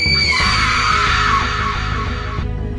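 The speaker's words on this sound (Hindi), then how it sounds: "उसकी चीख फिजा में गूंज गई।" A woman's loud, sustained scream in a Hindi horror cartoon, rising sharply then holding a shrill, strained cry for nearly three seconds before cutting off abruptly, close and alone with no talk.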